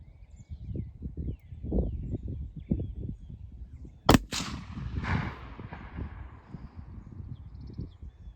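A single loud, sharp gunshot from a Ruger RPR precision rifle cracks mid-clip and echoes away, with people talking quietly before it.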